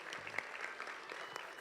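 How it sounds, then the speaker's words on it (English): A faint, brief burst of applause from a church youth gathering, scattered claps at a distance with a little speech mixed in. "So let's give a round of applause for Pastor."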